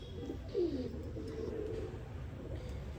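Large breeder pigeons cooing close by in a loft, a soft low throaty coo rising near the start and murmuring on through a steady background hum.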